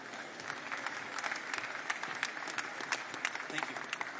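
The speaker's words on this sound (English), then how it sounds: "You can applaud him." Audience applause at an AI summit for OpenAI CEO Sam Altman, a steady wash of clapping with sharp individual claps standing out, fairly close and continuous throughout.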